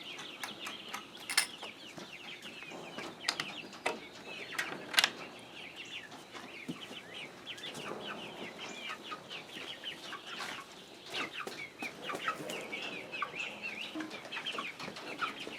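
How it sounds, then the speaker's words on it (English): Chickens clucking and squawking throughout as they wait to be let out in the morning, several birds close by with occasional sharp calls and faint rustling, no talking. "We're here to let the chickens out this morning."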